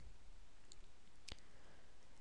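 A single sharp left-click of a computer mouse, quiet and isolated against a faint steady hiss, with no talking.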